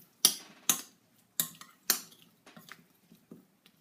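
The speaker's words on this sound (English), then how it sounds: "Mix this all up so it's nice and coated." Metal utensils clink and scrape against a dish while garlic and oil are mixed together, four sharp clatters early on followed by softer, irregular taps and stirring.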